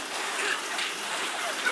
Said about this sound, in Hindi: इधर बारिश भी हो रहा है